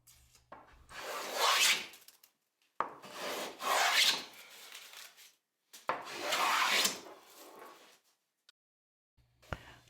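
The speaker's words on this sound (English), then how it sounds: "now he is smoothing this first side of the board" A hand plane smooths the first face of a rough-cut wooden board with a large knot, making three long, close rasping strokes of about two seconds each, separated by short pauses, with no talking.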